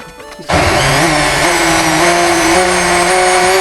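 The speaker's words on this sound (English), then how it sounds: "So we are going to put in the blender." A kitchen blender kicks on abruptly after a brief quiet moment, blending hot pasta sauce, then whirs loud and steady with a high, grinding motor whine.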